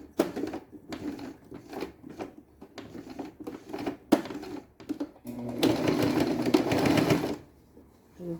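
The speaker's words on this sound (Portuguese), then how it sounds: "Aí, vou dar uma costurada." A sewing machine stitches a beach bag in short rapid bursts, then settles into a longer steady run near the end, nearby and moderately loud with no voices.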